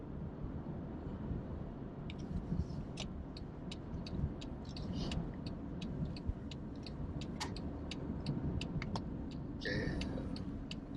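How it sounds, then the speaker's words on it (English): Trucks and cars pass at a highway rest area, a continuous broad traffic rumble and road hiss with faint, quick ticking and clicking above it, steady and moderately distant. "Trucks, cars."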